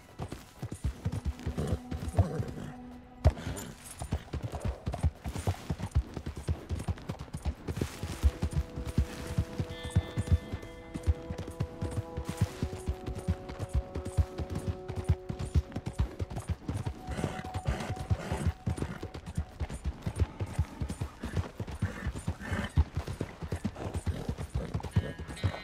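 Horse hooves clip-clop at a steady trotting rhythm in the Western game Red Dead Redemption 2, close and continuous, with tonal music playing alongside.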